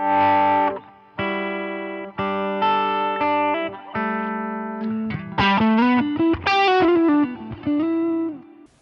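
Heavily distorted electric guitar on the bridge pickup through a Helix amp model, playing sustained chords, then a run of bent single notes, loud and bright with a crunchy, saturated edge.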